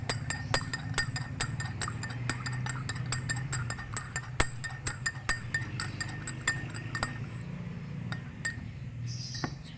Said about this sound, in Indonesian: Setelah itu kita aduk hingga rata.